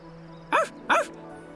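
A cartoon puppy gives two quick, high yapping barks, close and clear over a faint background hum.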